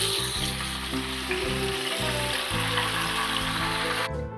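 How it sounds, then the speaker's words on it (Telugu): Sorrel leaves hit a hot kadai with a loud, dense sizzle and crackle that holds steady throughout, alone without talk, then abruptly cuts off at the end. "నేను చుక్కకూర కూడా వేసేస్తున్నాను అదే కళాయిలో."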